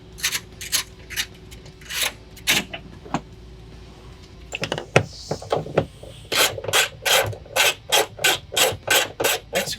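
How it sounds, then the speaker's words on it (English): A 14mm socket ratchet loosens a bolt on an interior panel of a first-generation Toyota Sequoia, producing quick close raspy clicking bursts in uneven runs, then a steady regular series of loud ratchet strokes in the second half. "get your 14mm socket, and proceed to remove that"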